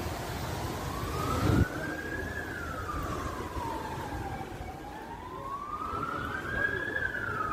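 An ambulance siren wails in slow rising and falling sweeps on an Ankara street near the parliament, sounding moderately distant over low traffic rumble, with a brief thump early on.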